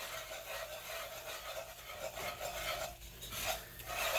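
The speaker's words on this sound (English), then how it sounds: "I'm just going to be bringing these two together with the whisk." A whisk rasps and scrapes through unsalted butter and all-purpose flour in a pot, forming a roux for gumbo, a soft continuous rubbing with rhythmic swirls, quiet and close.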